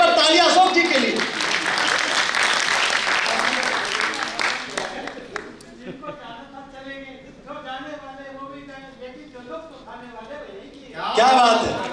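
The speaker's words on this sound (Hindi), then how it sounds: "एक बार तालियां अशोक जी के लिए।" Audience applause at a Hindi poetry gathering in New Delhi, a few seconds of lively clapping that gives way to a speaking voice, with another short burst of clapping at the end.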